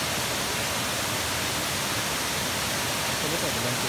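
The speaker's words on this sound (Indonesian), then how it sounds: "air terjun." Water pours steadily at Sungai Bejiam Waterfall in Malaysia, a loud continuous broadband rush with no breaks, filling the whole scene.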